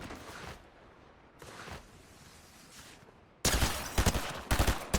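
Gunfire from two different weapons trades back and forth in a Fortnite match, starting as faint, scattered distant shots and then jumping to a loud, close burst of rapid automatic fire near the end.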